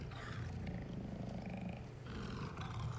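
Steady, rasping growls from a tiger in Dead Rising 2 roll on without pause, deep and rough, close and unaccompanied by speech.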